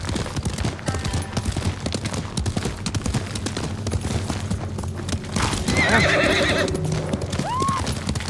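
A horse in the video game Ghost of Tsushima gallops with rapid rhythmic hoofbeats, then lets out a loud, close neigh near the end, with battle noise in the background.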